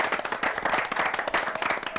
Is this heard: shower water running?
no